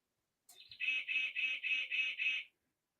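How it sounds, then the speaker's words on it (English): A bird-shaped novelty clock sounds its call: six evenly spaced, loud, nasal honking notes in steady rhythm, like a goose or duck, alone with no talk. "Bird clock."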